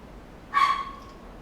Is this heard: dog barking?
yes